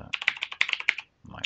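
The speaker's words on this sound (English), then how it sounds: "we're gonna go ahead and type sudo here as well" Quick bursts of typing on a computer keyboard, close clicking keystrokes in a rapid run, then a short pause before more keys, with faint voice-like sound at the edges.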